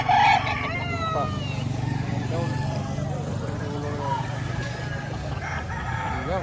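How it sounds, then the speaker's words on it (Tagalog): Roosters crowing repeatedly at a busy chicken market in Lipa, Batangas, several birds calling over a steady crowd murmur, with someone speaking briefly. "Dami pang manok."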